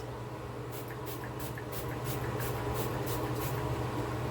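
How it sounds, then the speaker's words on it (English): A makeup setting spray bottle from the Wet n Wild Crystal Cave collection puffs a fine mist in a quick series of about ten short, evenly spaced sprays, close and fairly soft over a steady background hum. "It's a nice fine mist."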